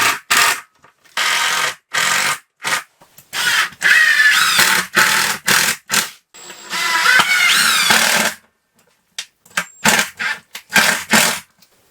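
A power drill whirs in repeated short bursts, driving screws without pre-drilling into wooden boards of a raised garden bed, with pauses between each and a couple of longer runs.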